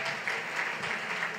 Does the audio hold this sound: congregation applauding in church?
yes